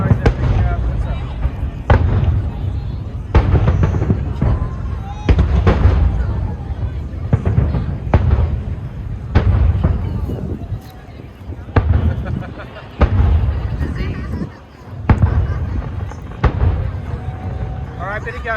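Fireworks bursting over Cremorne Bay during the Sydney New Year's Eve 2021 show, a run of loud booms and crackles that repeat every second or two at close range, with people talking over them.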